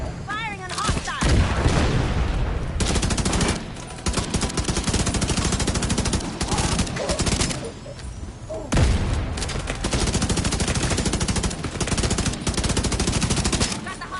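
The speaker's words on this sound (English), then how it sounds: "Firing on hostile." Rapid machine-gun bursts and scattered gunshots crackle loudly in a Warlords firefight, dense volleys running almost continuously with short pauses between sustained bursts, close and harsh.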